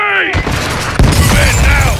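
A loud RPG rocket blast in Call of Duty: Modern Warfare 2 (2022) lands around the one-second mark, a sharp broadband boom that stays loud amid ongoing battle noise, with shouted voices over the top.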